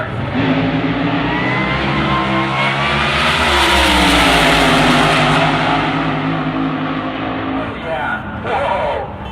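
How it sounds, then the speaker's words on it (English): A drag racing car at Tucson Dragway revs hard like an alcohol funny car, a loud, sustained engine roar climbing in pitch and holding high before easing off, with a voice talking over it. "he brings the revs up just like an alcohol funny car"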